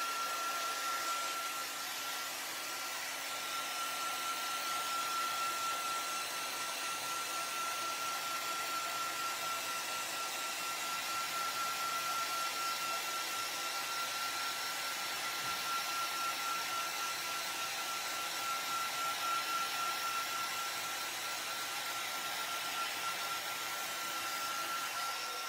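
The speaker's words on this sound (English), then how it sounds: "So we're going to use the heat gun and just go over this." A heat gun blows a steady, even hiss for a long stretch, drying a craft project in a home craft room, with a constant whining tone on top and no talking.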